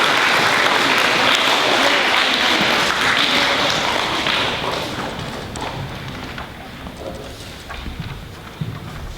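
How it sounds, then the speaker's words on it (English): Dense applause from a school audience honoring fifth grade award recipients at a recognition day, loud and steady at first, then thinning and fading toward the end with a few scattered late claps. "Round of applause for them."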